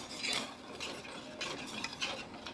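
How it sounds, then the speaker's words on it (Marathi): Boiling sugar syrup is stirred in a pan for Gudhi Padwa sugar garlands, giving a soft, steady scraping and bubbling texture with faint clinks, quiet and close with no talking. "आपल्या पाकाला चांगली उकळी फुटलेली आहे आता आपण एक असं हलवून घेऊया"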